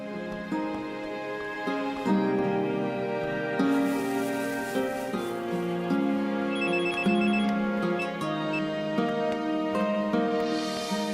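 A telephone ringtone plays a repeating melodic ring at steady volume for about eleven seconds while a woman calls Max after receiving unsigned flowers. No one speaks.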